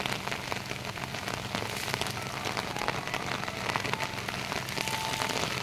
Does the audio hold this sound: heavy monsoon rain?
yes